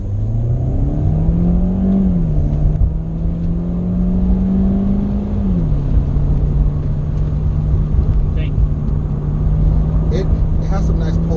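Chevrolet Sonic subcompact car accelerating on the road, a steady engine drone rising in pitch and then settling into a constant cruising hum, heard from inside the cabin with continuous road rumble.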